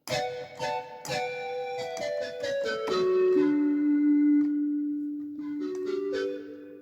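A hollow, breathy synth tone like blowing across a bottle, from a Roland Pro-E keyboard's bottle blow preset, plays descending notes, then settles on a long sustained low note, clear and alone.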